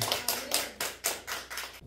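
A church congregation in a Full Gospel worship service claps together in about seven strong, evenly spaced bursts, loud and close, ending abruptly at the end.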